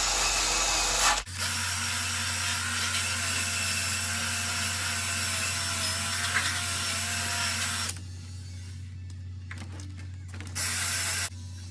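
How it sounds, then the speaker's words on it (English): Surfaces of a 1972 Corvette C3 T-top are scrubbed clean in continuous, close rubbing strokes over a steady low hum, ending in a few shorter scrubs with brief pauses between them. "by getting these surfaces nice and clean like this, the new weather stripping will lay just the way it's supposed to"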